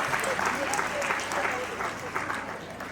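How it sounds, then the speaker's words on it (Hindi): Enthusiastic applause from a school audience welcoming guests at a Kendriya Vidyalaya Panagarh annual day celebration, a dense steady clapping that fills the hall throughout. "हम उनका स्वागत में एक बार जोरदार तालियां जरूर करें, जोरदार तालियों से उनका स्वागत करें"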